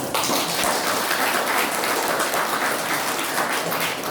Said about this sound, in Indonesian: Aplaus lagi.